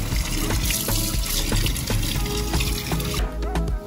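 Tap water runs steadily into a sink while fish is rinsed for salted fish, a loud continuous splashing stream that cuts off near the end, leaving a few faint drips and clinks.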